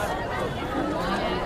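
A dense crowd murmurs and chatters at Kal Bhairav temple in Ujjain in a steady, close hubbub of many overlapping voices.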